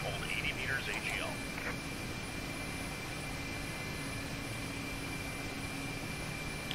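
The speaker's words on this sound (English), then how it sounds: "we stabilize the helicopter in the hover and hold 80 meters AGL" Mi-8 helicopter in DCS hovering about 80 meters above a platform, with a steady broadband rotor and turbine drone and a constant high whine that hold evenly throughout, with speech faintly heard early on.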